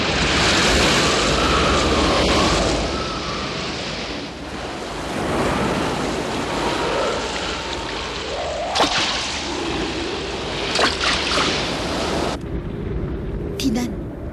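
Rain and strong wind over the sea in an animated 1993 Little Mermaid film, a loud continuous roar of wind and surf with gusting swells, under talk.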